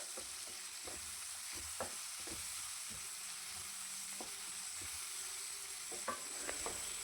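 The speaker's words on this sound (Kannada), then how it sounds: "ಉಪ್ಪು ಹಾಕ್ಕೊಂಡು ನಾನಿಲ್ಲಿ ಫ್ರೈ ಮಾಡ್ಕೊಳ್ತಾ ಇದ್ದೀನಿ ಬೇಗ ಬೇಯಲಿ ಅಂದ್ಕೊಂಡು" Tomatoes frying with salt in a pan, with a steady high sizzle broken by repeated scraping and knocking stirs.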